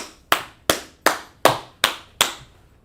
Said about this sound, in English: Clap it up for that brother